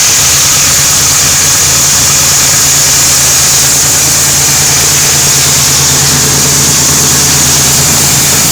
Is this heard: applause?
no